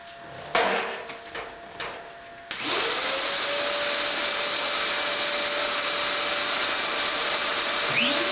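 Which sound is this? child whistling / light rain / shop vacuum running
shop vacuum running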